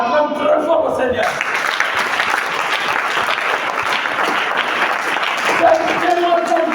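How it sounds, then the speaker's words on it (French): A church congregation applauds loudly and steadily through a French-language service, with a voice speaking over the clapping at the start and again near the end. "Acclame très fort au Seigneur."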